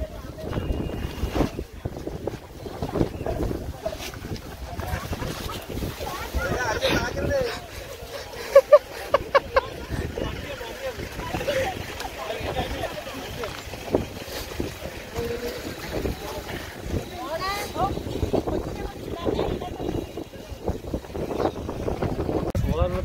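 Strong wind gusting at Ponmudi hill station in Kerala on a rainy day, a steady roaring rush with buffeting against the microphone, continuous and loud throughout with brief clicks midway.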